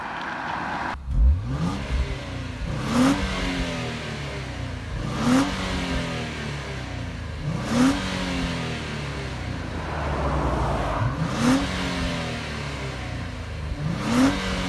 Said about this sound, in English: yeah, nice throaty sound, and then through gears it's really,